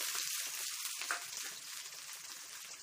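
Onions and chana dal crackle and sizzle quietly in hot oil in a pan, a soft continuous fry with no voices.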